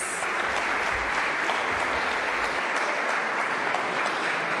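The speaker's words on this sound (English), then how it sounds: "A big round of applause" A large crowd at a freedom of expression award ceremony claps in a sustained, dense round of applause that holds steady and loud for the whole stretch.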